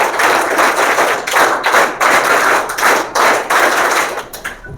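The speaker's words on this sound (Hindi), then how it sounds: "सभी शिक्षकों के लिए विद्यालय 3 ताली स्वागत किया जाएगा" Government schoolchildren at a birthday celebration clap together in unison, loud, close bursts of many hands arriving in a quick rhythmic run of synchronized claps with short pauses between groups.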